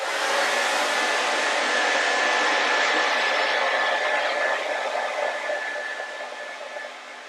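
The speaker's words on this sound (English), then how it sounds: "I'm going to hit it with the blow dryer again a little bit" A hair blow dryer blowing over wet acrylic paint on a canvas, a steady loud whooshing roar with a faint whine that runs continuously and eases slightly near the end.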